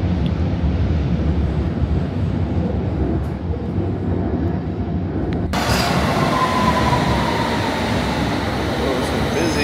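A London Underground train rumbles steadily nearby, a dense low roar that brightens partway through as it moves through the station.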